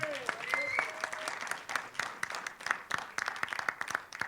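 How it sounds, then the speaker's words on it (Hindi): A crowd at a film trailer launch event applauds with dense, steady clapping that thins into scattered sharper claps, with brief voices mixed in at the start. "गोविंदा जी के लिए जोरदार तालियां हो जाएं।"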